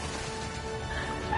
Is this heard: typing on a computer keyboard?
no